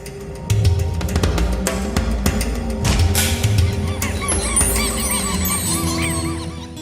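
Flying Arctic birds give repeated honking calls in a loud, busy chorus that carries on throughout.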